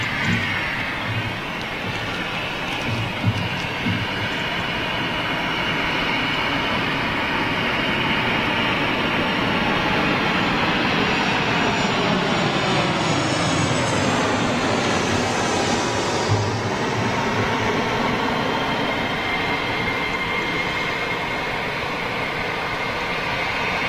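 A jet aircraft at London Gatwick Airport produces a continuous loud roar with a shifting whine, rising and falling in pitch as it passes, holding steady for over twenty seconds at close to moderate distance.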